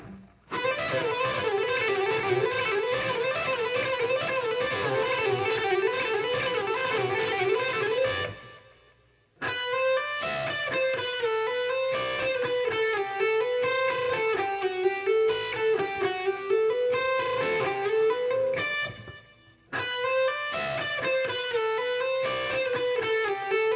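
An electric guitar plays a fast, continuous lick using barring, with bent and sliding notes, dropping out briefly twice before resuming.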